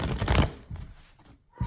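Tarot cards shuffle in a close riffle burst, then softer rustles taper off, ending with one more brief flick of cards.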